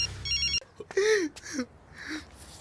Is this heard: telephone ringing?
yes